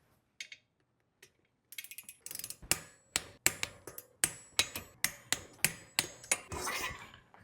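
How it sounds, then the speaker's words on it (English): Wrench clicking as e-bike brake rotor bolts are torqued, a few sparse ticks then a steady series of sharp ratcheting clicks and knocks, close and crisp with no talking. "now I'm going to torque them to around 10 to 12 Nm"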